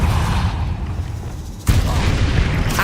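A Bombarda explosion spell in Hogwarts Legacy, a dense rumbling blast with crackling debris, followed by a second sharp, loud detonation that rolls on with heavy low booms.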